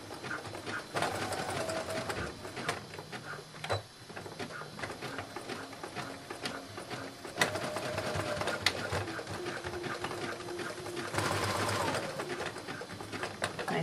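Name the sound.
sewing machine stitching back and forth on a swim dress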